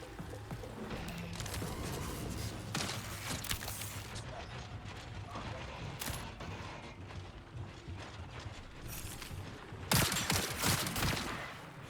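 Continuous gunfire in the shooter Marathon, dense and busy throughout, with sharp bursts layered over a constant clatter of weapon mechanisms and a louder flurry near the end.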